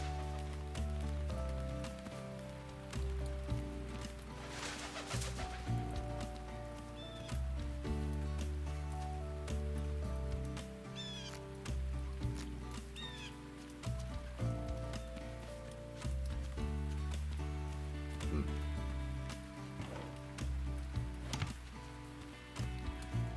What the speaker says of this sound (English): Who holds a fair on a rainy day?